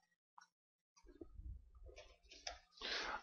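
Keys on a computer keyboard click as a domain name is typed, a few isolated taps followed by a quicker run of clacks, close and fairly quiet.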